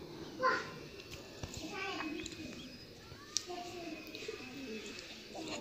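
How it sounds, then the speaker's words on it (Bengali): Large crested pigeons kept in a city home coo softly in the background, faint and low, mixed with children's voices and general household noise. "আর বড় সাইজের কবুতর তো ডাকে, খুব আওয়াজও হয়"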